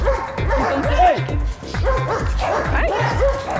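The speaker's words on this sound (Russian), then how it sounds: "Там собачки." Rapid, close barking from Cane Corso, German Shepherd, Boxer and Pitbull dogs during bodyguard training, a quick series of sharp yips and woofs repeating in a fast rhythm throughout.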